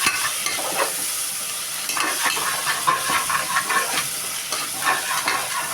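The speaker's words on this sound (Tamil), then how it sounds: "இப்போ தக்காளி நல்லா வதக்கி விடுங்க." Tomatoes and green chillies sauté in a hot pan for mushroom biryani, a steady close sizzle broken by repeated scraping stirs of a spoon, with no voices.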